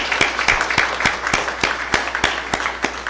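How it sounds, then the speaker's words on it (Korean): Congratulatory applause breaks out in a church service, a congregation clapping in a brisk, fairly regular rhythm of sharp hand claps, close and lively for the whole stretch. "축하의 박수하겠습니다"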